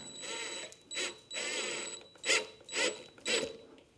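A ratchet or wrench tightening a nut on the pressure switch of a Campbell Hausfeld air compressor, close metallic clicking in several short bursts, the last three evenly spaced, no talk.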